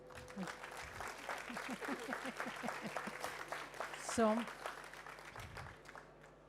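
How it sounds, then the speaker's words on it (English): Scattered audience applause at a climate dialogue event on women's leadership rolls on under a voice speaking, with a brief sharper burst midway before the clapping thins out and fades. "Please applaud."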